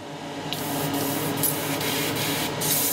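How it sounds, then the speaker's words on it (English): Aerosol spray paint hissing steadily as an undercoat is applied to a Forgeworld resin Hydra model for Warhammer 40k, a continuous close broadband spray with short bursts and pauses, no talking. "Just nice, just keep spraying it on."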